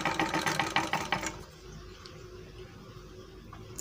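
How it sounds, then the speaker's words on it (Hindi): An overlock sewing machine stitches fabric with a fast, loud mechanical whir for just over a second, then cuts off, leaving a low steady hum and quiet background noise. "सिलाई मार के चेक करते हैं।"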